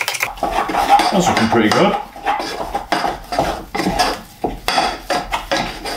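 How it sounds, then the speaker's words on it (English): Choux pastry dough being beaten vigorously in a pan, with repeated loud scraping and knocking of a spoon against the pan in uneven strokes, and a brief spoken comment partway through. "So just mix it vigorously until it comes away from the side of the pan"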